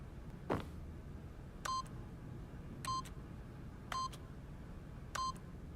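Four separate electronic keypad tones from a video game PIN entry, evenly spaced about a second apart, each a short clear beep over a quiet background hum, preceded by one brief soft thud.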